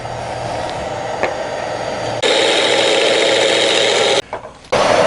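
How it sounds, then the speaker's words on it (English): A wood lathe whirs steadily while a tool parts off a sacrificial piece at the base of a segmented bowl, the scraping growing louder and rougher midway, then briefly pausing before resuming. "We're going to part off this sacrificial piece right here, just at the bottom."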